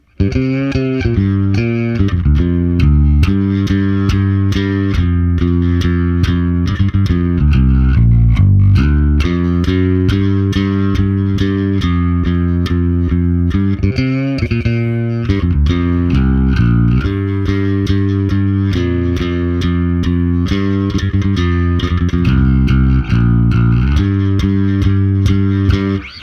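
A bass guitar plays a bass solo slowly, a steady line of clear, sustained notes, alone and close, with a slightly effected tone throughout.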